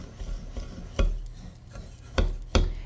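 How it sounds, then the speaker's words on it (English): A spoon stirs myrrh into a bowl of bath salts. Soft gritty scraping comes in a few distinct louder strokes, close and without any talking. "So I'm going to stir the myrrh in."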